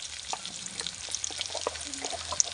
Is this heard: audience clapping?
no